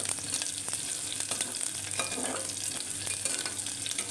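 Chopped onions frying in a pan, steady sizzling broken by frequent spoon scrapes and stirring clatter close by.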